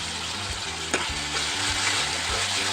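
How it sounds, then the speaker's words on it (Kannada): Tomato with ginger garlic paste fries in a pan, a steady close sizzle broken by clinking, scraping stirs of a spoon against the pan. "ಚೆನ್ನಾಗಿ ಫ್ರೈ ಆಗಲಿ."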